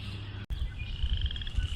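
Chorus frogs and leopard frogs calling in Calamus Swamp in April, a dense, continuous croaking chorus over a low rumble, with a brief dropout partway through.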